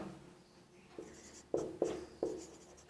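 Pen scratching on paper while a maths answer is written out, a few short, close strokes in a quick irregular rhythm against a quiet background, no talking.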